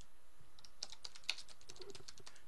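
Fingers type on a computer keyboard, a soft, fairly quiet run of uneven key clicks with one sharper tap in the middle, over faint room hiss and without speech.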